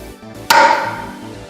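A hammer strikes the head of a Ko-ken impact driver once: a sharp, loud metallic blow up close, followed by a ringing decay.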